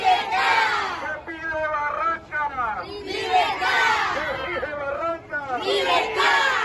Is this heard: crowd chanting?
yes